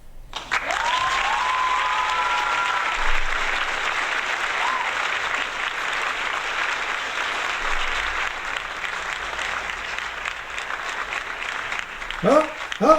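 Steady, even applause fills most of the stretch after a brief tonal chirp at the start, loud and unbroken, then gives way to someone talking near the end.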